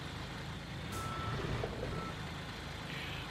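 A truck in Construction Simulator is being stabilised. Its engine hums steadily under a faint, repeating warning beep, with no talk.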